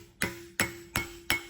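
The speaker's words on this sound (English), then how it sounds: "my hammer strokes are harder and more precise" Four sharp, evenly spaced hammer blows ring out on sheet metal being folded into a handle, each a bright metallic strike with a short ringing decay, close and loud with no talk.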